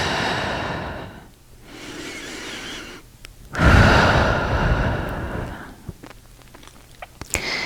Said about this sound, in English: as you breathe in and out through the nose